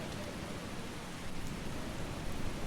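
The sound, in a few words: loud rain in video game Eastshade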